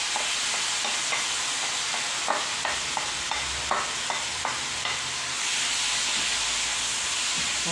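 Onion frying in a little oil in a pan, a dense continuous sizzle and hiss with intermittent scraping stirs, close and steady.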